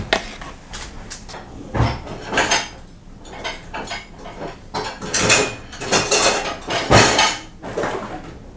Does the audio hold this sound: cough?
no